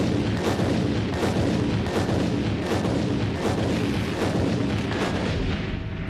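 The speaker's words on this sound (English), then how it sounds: "Columns on the east end of the garage detonate first." Demolition charges detonating on building columns at the east end of a parking garage, a dense rapid volley of loud cracking blasts and booms that runs continuously without pause.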